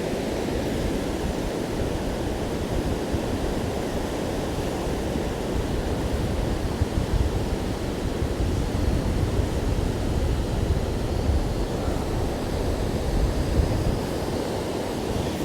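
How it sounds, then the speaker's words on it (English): Strong onshore wind and breaking surf on a West Wales beach make a constant loud rushing roar, with wind buffeting the microphone and waves surging steadily throughout, with no speech. "Onshore wind. That's why you got loads of breakers"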